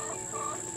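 Small white backyard farm chickens cluck steadily at close range during snack time, a continuous busy stream of soft calls with no talking.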